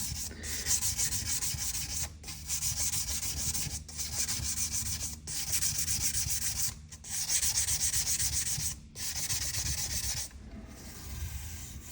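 Steady, gritty rubbing strokes of a sanding board on guitar frets, repeated in a rhythmic back-and-forth with brief pauses between passes, close and fairly loud.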